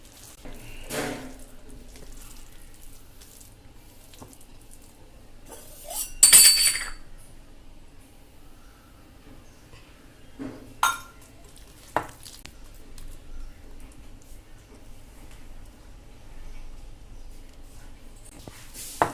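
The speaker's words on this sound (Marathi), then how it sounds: "हे बघा असं मिक्स करून घ्यायचं आहे" A spoon stirs and scrapes in a bowl, mixing a chana dal, cabbage and egg batter, with intermittent clinks and soft wet mixing sounds in scattered bursts.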